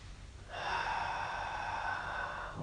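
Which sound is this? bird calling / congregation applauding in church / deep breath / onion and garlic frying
deep breath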